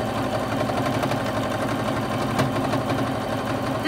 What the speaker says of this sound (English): This sewing machine was meant for quilting,